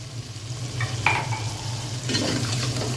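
Chotpoti masala cooks with a little water in a pan, a soft steady sizzle with a few brief stirring scrapes up close and no talking.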